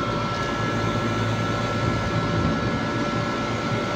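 An air conditioner's cooling fan runs strongly during a freon check and recharge, giving a steady, loud broadband whoosh with a faint constant hum throughout and no speech.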